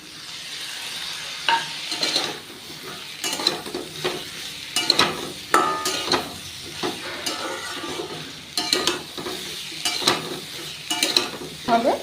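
Mixed leftover vegetables and green peas fry in a pan for a Bengali labra while a spatula stirs them, giving a soft sizzle broken by repeated scraping and clinking strokes against the metal.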